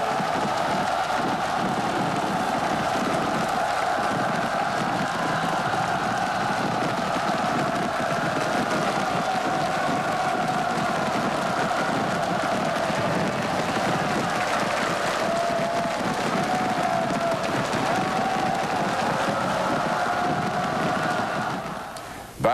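Large crowd roaring in jubilation at the 1997 Hong Kong handover celebrations, a dense, continuous wash of cheering and shouting heard from a distance, steady and sustained throughout.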